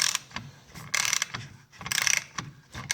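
A Mastercraft micro-head ratchet with a fine tooth count clicks in quick buzzing bursts as it is swung back and forth, close and crisp with short pauses between strokes.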